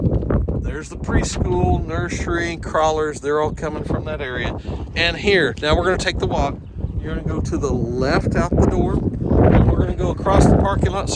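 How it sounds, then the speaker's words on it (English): Gusty wind buffets the microphone outdoors beside a parking lot, rumbling low and steady under continuous close speech from a person talking throughout. "Sorry for the wind."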